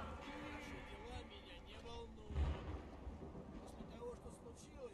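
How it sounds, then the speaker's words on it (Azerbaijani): Thunder and rain in the video game Skyrim: a single deep rumbling thunderclap rolls in midway over a steady hiss of falling rain, with a faint low background bed throughout. "Bu nə ildırımıydı ala?"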